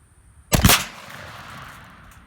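A 28 gauge shotgun fires a single Rio 1 oz 7.5 shot shell through a cylinder choke outdoors at a patterning range, one loud close boom followed by a long fading outdoor rumble.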